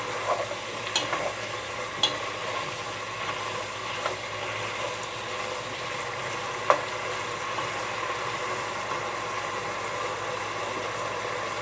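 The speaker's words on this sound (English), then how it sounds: "We should start browning already." Chicken browning in a pan for stew gives a soft continuous sizzle with scattered light clicks of a utensil and one sharper knock, heard close but at low volume.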